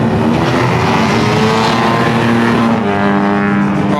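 A race car at a rotary racing event rolls down pit lane close by, its engine a loud, sustained, buzzy drone that shifts pitch slightly near the end, with no talk over it.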